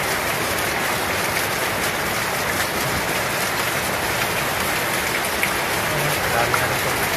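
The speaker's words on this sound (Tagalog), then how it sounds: "Lakas po ng ulan, Grabe ng ulan" Heavy rain pours down in a steady, dense hiss and roar that fills the whole stretch without pause, with a voice faintly speaking at times beneath it.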